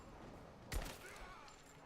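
A single quick burst of gunfire from the video game Rise of the Tomb Raider cracks out faintly in a research base level, standing briefly above a quiet background hum.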